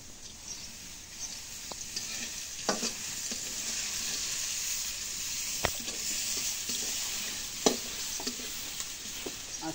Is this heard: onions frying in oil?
yes